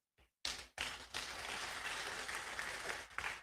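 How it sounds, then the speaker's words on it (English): Audience applause at a media launch event, a brief burst of clapping that swells quickly and holds steady for a few seconds before trailing off. "A round of applause."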